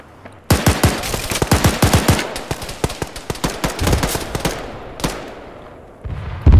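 Rapid bursts of automatic gunfire in a video game, loud and close, with dense strings of shots for several seconds followed by a few isolated cracks and a sharp blast at the end.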